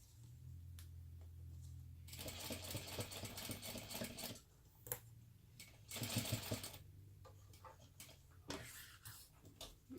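A sewing machine stitching a crossbody bag, running in short slow bursts with pauses between, each burst a rapid mechanical chatter, close and fairly quiet.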